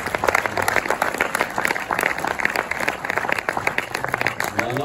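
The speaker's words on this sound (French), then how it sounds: "Si, tu dois te faire applaudir." An audience at a cinema screening applauds stage machinist Clément, brisk, fairly close clapping continuing throughout, with a faint voice briefly audible at the end.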